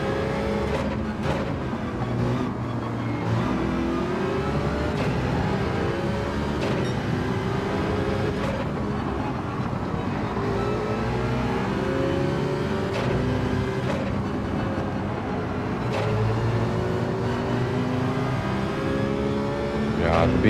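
A racing car engine accelerates in Gran Turismo 7 on Trial Mountain, its rising whine sweeping upward repeatedly as gears climb, steady and fairly loud beneath intermittent commentary.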